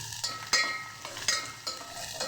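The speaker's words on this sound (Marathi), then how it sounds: "आता माझ्या आईने टाकले इकडे कांदा." Onion dropped into a tadka of hot oil with curry leaves, green chilli and garlic for Maharashtrian pithla; a steady sizzle is broken by a few sharp stirring scrapes spaced about a second apart, close and moderately loud.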